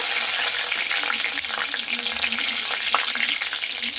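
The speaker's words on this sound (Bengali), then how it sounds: "আবারও অল্প পরিমাণে দিয়ে দিচ্ছি তেল ওই কড়াইয়ে। ফোড়নের জন্য দিয়ে দিচ্ছি গোটা জিরে কটা।" Whole cumin, dried red chilli and small bay leaves sizzle in a little oil in a wok, a steady close hiss with crackling pops throughout, no talking.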